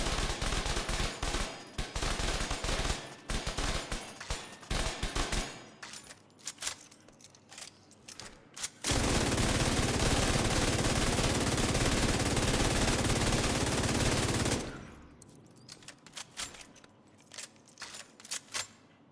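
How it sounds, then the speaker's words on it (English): Light machine gun fire from a Stryker build in a video game: dense bursts of rapid, loud automatic shots, sustained for several seconds with short pauses between volleys and no talking. "So we'll start off by looking at it with your machine gun."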